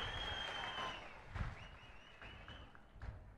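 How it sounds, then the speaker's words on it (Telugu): Crowd clapping at a political rally, a faint spread of applause from a distance, with scattered thumps and a whistling tone running through it. "అవునంటే గట్టిగా చప్పట్లు కూడా చెప్పండి."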